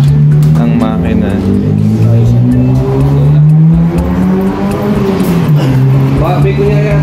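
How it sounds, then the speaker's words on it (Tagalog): A small engine runs loudly close by with a steady, slightly wavering hum, while people talk over it. "papaanda rin na namin dito ang makina"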